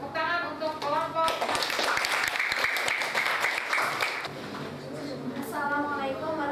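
A classroom group claps for a group of students, a dense burst of many hands lasting a few seconds, framed by a speaking voice before and after.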